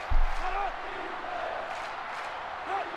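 A stadium crowd roars on third down in NCAA Football 06 during a UC Davis at Northern Colorado game, a steady, distant wash of cheering beneath faint commentary.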